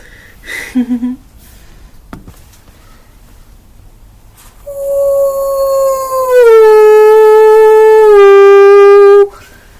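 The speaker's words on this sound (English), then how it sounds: "The dingo howl is unmistakable." A dingo gives a few short yips and a click, then a long, rising and wavering howl that holds strong and clear before cutting off, close and loud.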